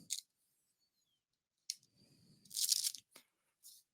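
Backing film peeled off a domed heat transfer logo: short crisp crackles and a longer tearing rustle, close and fairly quiet, separated by silent gaps.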